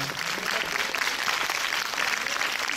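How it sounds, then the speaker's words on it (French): An audience claps at the final screening event of Plus belle la vie in a packed hall, a steady wash of applause at moderate level that continues without pause. "Je vais l'applaudir."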